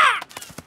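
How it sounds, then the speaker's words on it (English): Cartoon seagulls squawking at a campsite while going after raspberries, one loud harsh descending cry followed by a few shorter clipped calls, close and alone. "You naughty seagulls. Shoo! Shoo!"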